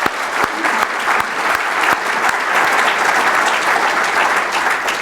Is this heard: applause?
yes